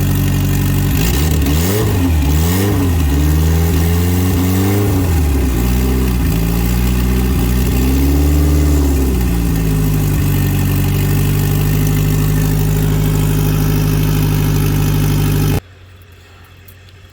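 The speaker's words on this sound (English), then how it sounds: "I've got the new blow-off valve in. It's a little bit loud." A car engine fitted with a new Tial blow-off valve revs up and down repeatedly, loud and close, then settles into a steady idle before cutting out abruptly near the end.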